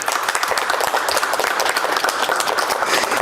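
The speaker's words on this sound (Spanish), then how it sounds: "Por favor, un aplauso." Dense, steady applause from an audience at a press conference, many hands clapping continuously and loudly throughout with no gaps.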